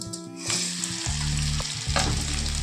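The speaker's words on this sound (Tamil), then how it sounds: "மிளகா நல்லா போட்டு நல்லா வதக்கணுங்க" Green chilies hitting hot sesame oil in a pan, a loud, close sizzle and crackle that swells as they drop in and keeps frying steadily with some stirring.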